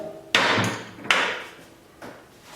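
Three sharp hammer blows rolling over rivets on an E.H. Scott Philharmonic radio chassis, each strike ringing briefly then decaying, close and fairly loud with no talk.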